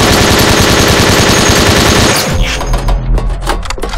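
Rapid automatic gunfire from a video game weapon with unlimited ammunition, a loud continuous burst for about two seconds that cuts off into scattered quieter game sounds.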